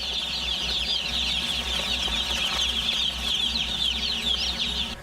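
Dense flock of broiler chickens clucking continuously in a crowded chicken farm barn, a steady overlapping chorus of many birds with a low background hum.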